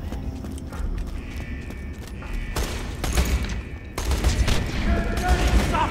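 Sniper and other gunfire in the video game Borderlands, a series of sharp shots with mechanical clacks, growing denser and louder toward the end, with no talk over it.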